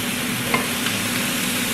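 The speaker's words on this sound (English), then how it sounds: "listen to the sizzle" Steady, faint sizzle of chicken thighs frying in a pan fills the clip, with a couple of soft clinks partway through and no voices.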